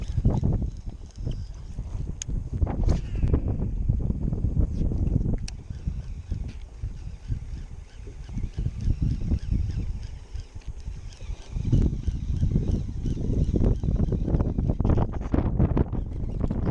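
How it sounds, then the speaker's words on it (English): Airboats run on a lake with a steady low engine rumble and heavy wind buffeting the microphone, continuous and loud throughout with surging bursts. "Now we can't hear anything because of the airboats."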